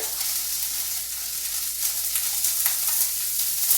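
Shrimp sizzle in hot pans with a loud, steady hiss of frying and faint crackles throughout, with no voices.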